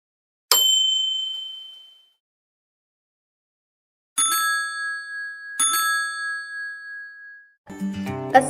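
A bright notification bell chime rings out three times, the first strike alone and decaying, then two more about a second and a half apart, followed by a short burst of other sound.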